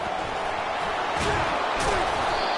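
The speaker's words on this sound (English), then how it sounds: "This crowd bringing the energy and noise early." A football stadium crowd roars steadily, a dense wall of cheering noise with a couple of swells, loud and continuous.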